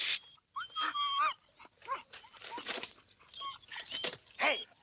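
Several dogs bark and yelp in an excited, uneven cluster of sharp calls, fairly close and loud, with brief whimper-like cries between the bursts.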